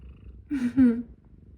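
A pet cat purrs close by during a heatwave, a brief, soft rumbling purr in two quick pulses within an otherwise quiet moment.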